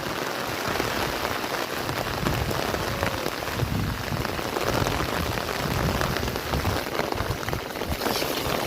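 Heavy monsoon rain pours down in Konkan, a dense, steady roar of drops hammering surfaces close by, unbroken throughout with no voices.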